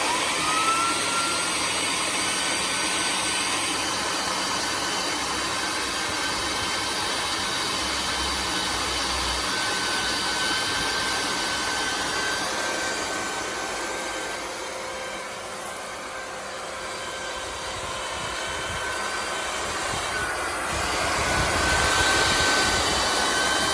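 A 1300-watt cyclonic compact vacuum cleaner runs during an airflow test. It makes a loud, continuous whooshing roar with a steady whine, softening slightly midway and then swelling again near the end.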